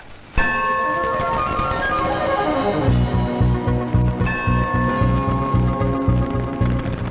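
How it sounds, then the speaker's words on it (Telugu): Temple bell rung by hand, struck repeatedly in a quick steady rhythm with bright ringing overtones, loud and close, with no talk over it. "గంట కొట్టి అడగాలి"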